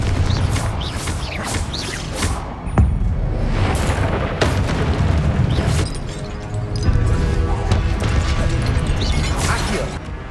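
Confringo fire spells keep blasting in the Hogwarts Legacy video game, giving a run of booming explosions and crashing impacts over a dense, steady bed of combat noise, with a voice heard now and then.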